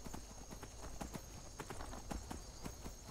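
Horse hooves clip-clop in steady rhythm in the Skyrim video game, a near, continuous series of sharp knocks over a constant background hum, with no talk.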